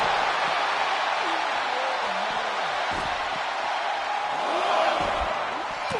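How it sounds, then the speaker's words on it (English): Capacity arena crowd in the WWE 2K25 wrestling video game cheers steadily throughout as a dense, continuous roar, with faint commentary tones and occasional thuds underneath. "you hear this capacity crowd following you on that journey"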